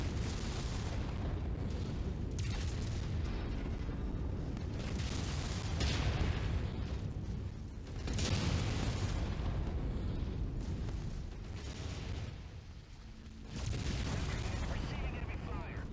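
Heavy booms and rumbling explosions from enemy fire in the modded game MechWarrior 5: Mercenaries, a loud, continuous barrage with surges every few seconds and speech mixed in.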